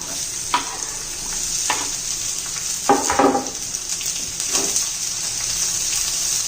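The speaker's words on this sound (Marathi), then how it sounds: "हा उभा कांदा घालून घेऊया" Sliced onion fries in a pan for rajma biryani, a steady close sizzle broken by a few scraping stirs of the spoon, with no talk.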